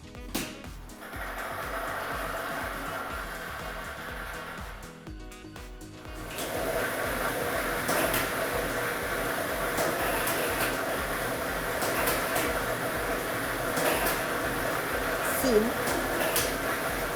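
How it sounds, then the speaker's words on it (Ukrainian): A lottery draw machine with a set of numbered balls is switched on during a televised Ukrainian state lottery draw, producing a steady rumbling, rattling churn that grows louder after a brief pause and runs continuously. "Тиражна комісія до початку гри довільно обрала лототрон А комплект кульок номер 1 І ми вмикаємо лототрон."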